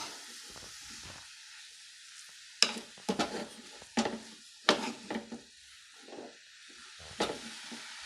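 Grated carrot frying in ghee for carrot halwa, stirred with a spatula: soft background sizzle punctuated by a series of distinct scraping strokes against the pan, irregular and close, with no talking.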